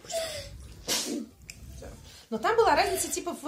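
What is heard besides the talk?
sneeze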